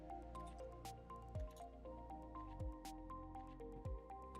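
Water dripping from a steam boiler's drum sample line, a close, steady run of small squishy drips with three heavier splashing drops about every 1.2 seconds, over a faint background hum.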